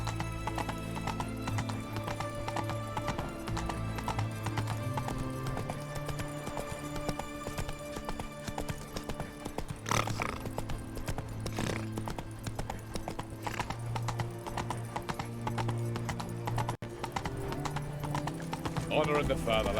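Roach the horse in The Witcher 3 trots along with steady rhythmic hoof clip-clops, a brief whinny and snort along the way, over layered game background sound.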